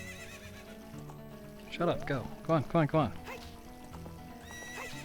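A horse in the video game Zelda Ocarina of Time whinnies in a burst of loud, wavering neighs mid-clip, with hoof clip-clops, while a man urges it on with short spoken commands.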